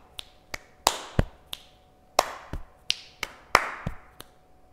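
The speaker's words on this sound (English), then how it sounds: "Clap, chest, click, clap, clap, chest, click." Body percussion pattern of hand claps, chest taps and finger clicks, a crisp sequence of about a dozen sharp close hits in a quick repeating rhythm, alone without talking.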